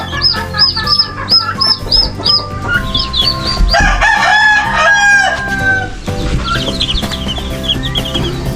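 Backyard chickens and roosters fill the air with repeated crowing and clucking, loud and close, several birds calling over one another without any talk.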